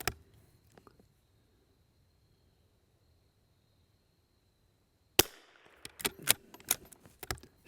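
A rifle fitted with an Arken scope fires one sharp, loud, close shot after a long near-silent pause, followed by a quick series of rattling, clicking clatters.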